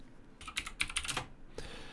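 Computer keyboard typing during web page editing, a quick run of clicky keystrokes in several bursts with a brief pause, close and moderately loud, no talking.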